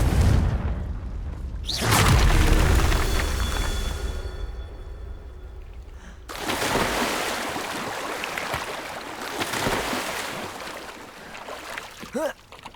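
A Confringo explosive spell going off in Hogwarts Legacy, a heavy booming blast near the start followed by a rushing, crackling rumble that tails off, then a second burst of roaring noise.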